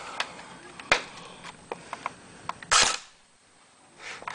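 Airsoft Alien pulse rifle firing on semi-automatic: a string of sharp, separate clicky shots at uneven spacing, close and fairly loud, with one longer burst near the end and no talk.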